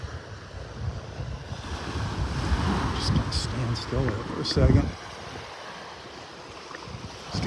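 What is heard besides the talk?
wind gusts and waves on a Naples, Florida beach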